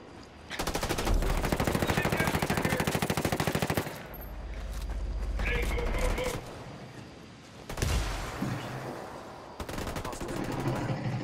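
Rapid automatic gunfire in a Ghost War ranked match, coming in several long, loud bursts of fast, evenly spaced shots separated by brief lulls.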